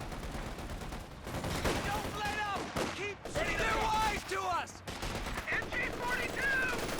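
Machine gun fire in Company of Heroes 2, with repeated rattling bursts from several MG positions and scattered gunshots, mixed with battle noise and faint whistling sounds throughout.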